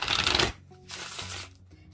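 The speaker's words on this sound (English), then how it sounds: "let me actually ruffle shuffle here" Tarot cards from the Forest of Enchantment deck are riffle shuffled up close, a crisp half-second burst of flapping followed by a softer ruffle and a brief settling of the cards, with no one talking.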